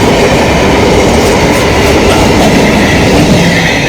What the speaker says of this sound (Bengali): বাট ট্রেনটা যাচ্ছে দেখো